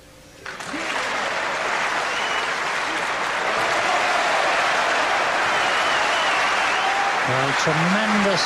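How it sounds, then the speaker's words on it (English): Loud, sustained applause from a large snooker audience at the 1984 Benson & Hedges Masters semi-final, rising quickly after a brief quiet start and continuing steadily, with a few voices briefly audible near the end. "tremendous applause from the audience"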